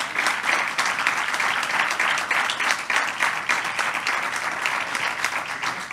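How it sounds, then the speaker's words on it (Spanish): Sustained audience clapping fills a hall during a photo at a civil protection recognition ceremony, with many hands beating in a dense, even rhythm throughout. "Fotito y aplauso, por favor."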